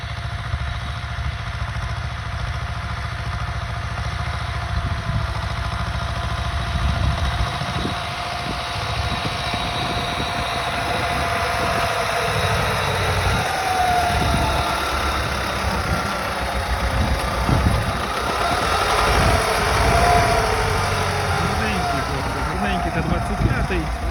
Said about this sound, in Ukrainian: Т-25 отам ззаді працює, сіємо, досіваємо